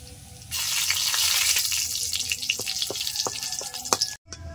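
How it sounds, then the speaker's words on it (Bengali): Dried red chillies sizzle in hot oil left from frying hilsa fish tails, a steady crackling fry with scattered pops and light clinks, closing in a short pause. "এই তেলেই কয়েকটা শুকনো লঙ্কা ভেজে নেব।"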